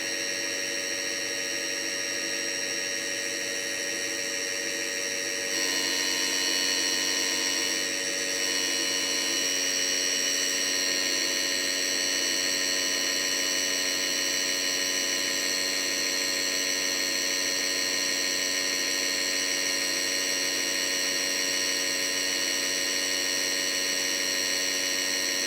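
The blade of a Cobra NP4 skiving machine being sharpened, a steady high-pitched whine of grinding that grows stronger after a few seconds and holds on alone.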